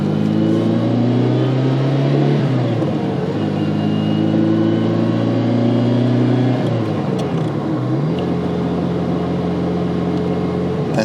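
Heard from inside the car, a 1989 Ferrari 328 GTB engine climbs in pitch through each gear and drops at every shift, a loud, continuous mid-range drone with two clear upshifts.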